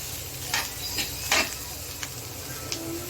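Cluster bean and potato dry vegetable sautéing over a low flame gives a soft, quiet sizzle, broken by a few brief scrapes and clinks of a spatula against the pan.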